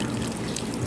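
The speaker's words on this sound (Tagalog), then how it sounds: "Bababaran natin ng suka." Vinegar is poured over cleaned shrimp, a short, close splashing trickle of liquid with a steady wash of sound.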